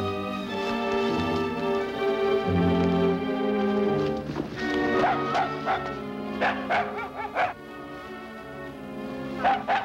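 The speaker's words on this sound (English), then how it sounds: "a dog barking" A dog barks in short bursts over a continuous background of music, the barks fairly close and uneven in rhythm.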